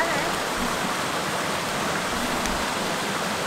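A waterfall in Killarney National Park in Ireland, a steady, dense rushing roar of falling water, constant and fairly close with no voices.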